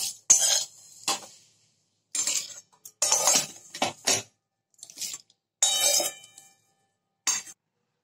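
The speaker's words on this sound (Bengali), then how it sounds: "আমি এটা মিক্সির জারে ঢেলে নিয়েছি" Dry-roasted whole spices poured into a mixer grinder jar, heard as short bursts of rattling, clinking pieces striking the jar in separate spills with quiet gaps between them, close and crisp.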